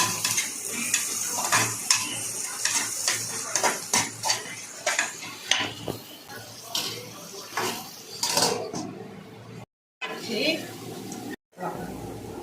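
Tomatoes being sautéed in a pan for vegetable noodles, with a spatula scraping and clinking against the metal over a light sizzle, in repeated stirring strokes, while a voice talks at times.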